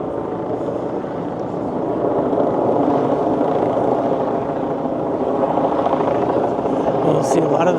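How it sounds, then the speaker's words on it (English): A steady, broad rumble of a helicopter overhead runs throughout, heard beneath people talking nearby at a large outdoor rally in Boston. "You hear the helicopter overhead."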